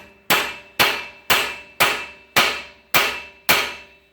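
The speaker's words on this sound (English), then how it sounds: "take your hammer from there and just give it a little whack." Seven sharp metallic hammer strikes on a bolt of a Ford F-150 during a leveling kit install land at a steady, even pace, each ringing briefly before fading, close and loud.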